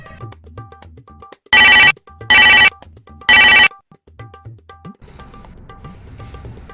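Three loud telephone ring bursts on an outgoing call, evenly spaced, each under half a second, with quiet room sound between and faint background noise after.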